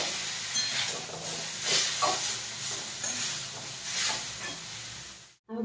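Noodles sizzle and hiss in a hot kadai with the other ingredients, a steady frying crackle with a few louder surges, ending in a sudden brief silence.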